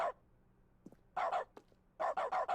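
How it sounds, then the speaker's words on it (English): Short barks in The Stanley Parable: Ultra Deluxe, triggered by clicks in an office game, several quick yaps in clusters of two or three, clear and close with brief silences between. "Now when you click on stuff, it makes barking sounds."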